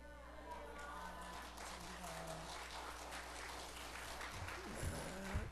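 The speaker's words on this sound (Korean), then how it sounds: "할렐루야로 하나님께 영광 돌리고 뜨거운 박수로 격려해 주세요" Church congregation applauding as the pastor comes forward, faint scattered clapping over low room hum, with a couple of louder thumps near the end.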